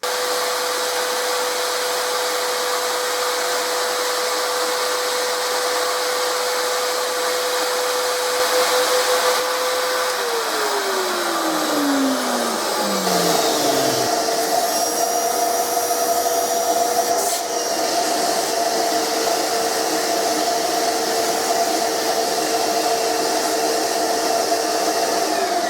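Power tool cutting a sound hole into a standard mandolin soundboard: a steady loud whine runs throughout, its tone dropping and shifting midway as the cutter bites into the wood, with no talking.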